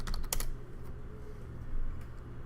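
Several quick clicks on a Windows computer keyboard come in a short burst at the start, close and crisp. A soft, steady background hum follows, with no voices.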